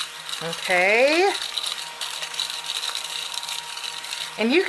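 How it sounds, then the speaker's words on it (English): A small We Are Memory Keepers handheld crafting vacuum whirs in short bursts over a paper-crafting desk, its rising motor pitch sweeping up at start and again near the end, with a steady hum between. "Love this little vacuum."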